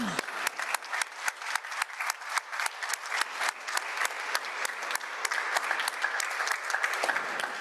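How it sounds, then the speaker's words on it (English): An audience at a university undergraduate award and scholarship reception claps for the award recipients, a sustained round of applause with distinct individual claps, moderately near and growing slightly fuller toward the end. "So let's do one more round of applause for everyone."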